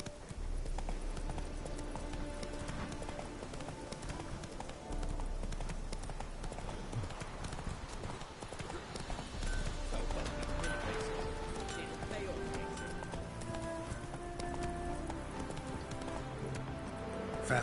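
Horse hooves clip-clop in a fast, steady galloping rhythm in a PS4 video game, with continuous game sound and a voice speaking over the hoofbeats.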